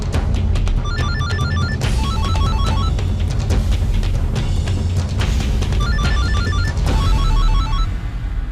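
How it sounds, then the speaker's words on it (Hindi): A phone ringtone rings in repeated bursts of melodic tones, loud and continuous over a steady background of drama-scene music, with a brief break in the middle before the ringing resumes. "आनंदी मेरा फोन क्यों नहीं उठा रही है?"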